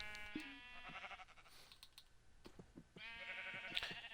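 Sheep in Minecraft bleat in short, buzzy calls, two or three clear bleats spaced a second or so apart, mixed with quick clicking keyboard taps underneath.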